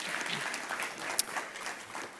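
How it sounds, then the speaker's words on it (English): An audience at a food and land justice summit applauds for a farmer and owner of Atlanta Harvest, a steady, moderate wash of clapping with one sharp louder clap near the middle. "Please give her a round of applause."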